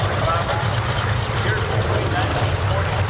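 An Avro Lancaster bomber flies past at the Oshkosh AirVenture 2024 airshow, its propeller engines making a loud, continuous, deep droning roar that fills the whole stretch.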